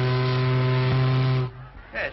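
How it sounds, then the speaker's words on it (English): A ship's steam whistle in a 1936 sailor film sounds one long, loud, steady blast lasting about a second and a half, then cuts off abruptly, leaving a quieter background with a brief voice near the end. "this works the whistle"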